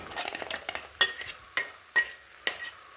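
Ground coconut paste being stirred into a red gram and raw banana stir fry, a spoon scraping and clinking against the pan in several distinct strokes, close and moderately loud, with no talking.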